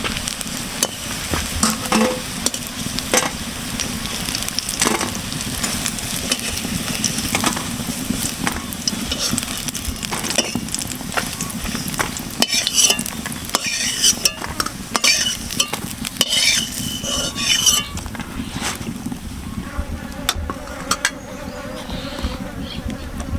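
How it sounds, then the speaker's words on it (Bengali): Crab brain fritters fry in hot oil with a dense, crackling sizzle that runs throughout. Repeated scrapes and clinks from lifting the fritters out sit on top of the bubbling. "বড়াগুলো সুন্দর করে ভেজে নিয়েছি, এখন আমি তেল ছাড়িয়ে উঠিয়ে নেব"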